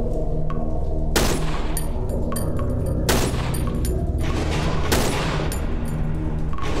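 Gunfire in the horror video game Cry of Fear, three loud, booming shots spaced about two seconds apart, each leaving a ringing tail over a dense, rumbling background.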